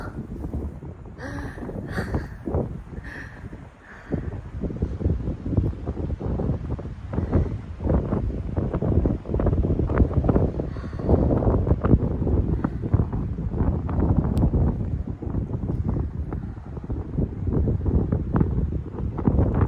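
Wind blows outdoors on a snowy day, buffeting the microphone in loud, rumbling gusts that roar continuously for the whole stretch, with a few faint higher sounds briefly showing early on.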